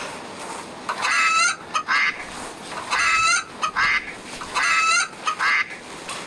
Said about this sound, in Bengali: এই হাঁস মুরগিগুলি এখানে রাখছেন কেন?